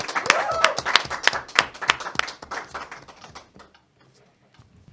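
An audience claps to welcome the hosts of a Spanish-language religious talk show, a brisk burst of close hand claps that thins out and fades to near silence after about three and a half seconds.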